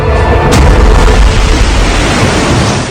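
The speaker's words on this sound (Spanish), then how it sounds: "se produjo una explosión titánica" A massive, deep explosion blows off a warship's bow in an American Civil War naval battle, roaring continuously with heavy low rumble and a sharp crack early on, loud and close throughout.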